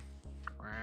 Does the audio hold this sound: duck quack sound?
yes